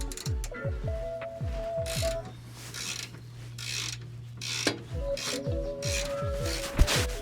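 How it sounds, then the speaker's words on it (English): Wrench ratcheting on a fuel tank strap bolt underneath a 2002 Chevy Astro, heard as quick rhythmic clicks in close-up bursts with short pauses between runs, plus a low steady hum in the background. "I'm going to undo the first strap bolt here"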